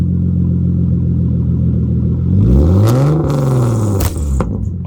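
A nearby 2013 Hyundai Genesis Coupe 3.8 R-Spec engine idles, then revs up sharply and falls back, with a second quick blip of the throttle through a deep single exhaust note.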